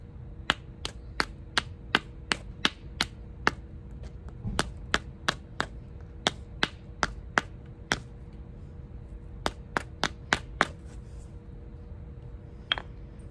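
A flint knapper trims the edge of a Clovis biface made from a core, producing sharp, close clicks and taps from quick strikes, some in rapid runs and others after short pauses.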